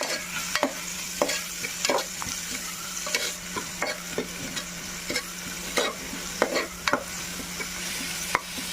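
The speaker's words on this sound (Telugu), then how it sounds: "ఇది చక్కగా దూరగా వేయించుకోండి, మన గోల్డెన్ కలర్ వచ్చేలా వేయించుకోండి." Meal maker soya chunks fry in a pan over a medium flame, a steady sizzle broken by regular spatula scrapes and taps, fairly quiet and without speech.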